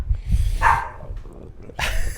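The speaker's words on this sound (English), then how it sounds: "What are you barking at?" A dog barks indoors, a couple of sharp close barks separated by a short pause.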